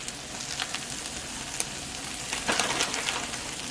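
Eggs scrambled with tortillas and sprinkled cheese sizzle steadily in a frying pan, a continuous close crackle with a few brighter pops and no talking.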